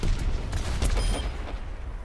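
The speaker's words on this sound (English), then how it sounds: "her ability, or ultimate, sorry, is Justice Ring, or Rocket Barrage, where she fires a bunch of rockets" Pharah's Rocket Barrage ultimate in Overwatch lets loose a rapid stream of rockets, heard as a dense, continuous run of booming launches and blasts with a steady rumbling low end.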